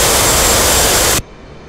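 An F/A-18 Hornet jet engine in the DCS flight simulator gives a loud, steady broadband roar that cuts off abruptly, leaving a faint hum.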